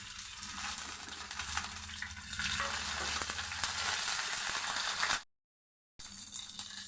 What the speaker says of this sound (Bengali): কাঁচা লঙ্কা আদাটা আমার ভাজা হয়ে গেছে